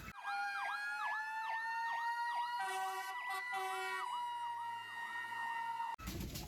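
A toy fire truck's electronic siren wails in a steady looping up-and-down pattern, bright and continuous for several seconds before cutting off abruptly.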